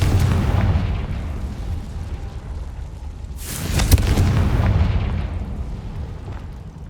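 Confringo fire spell in Hogwarts Legacy gameplay: a broad rumbling roar throughout, swelling into a loud booming blast about halfway through before settling back into a sustained low rumble.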